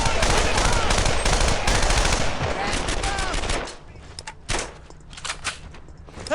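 Dense, loud machine-gun and rifle fire in the World War II shooter Brothers In Arms: Earned In Blood, a sustained barrage that breaks into scattered, separate shots with shouted commands.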